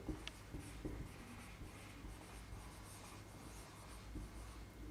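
Marker or chalk writing out a sentence on a board in a classroom, a steady scratchy rubbing that runs almost without pause, with a few firmer taps as strokes start, close and fairly quiet.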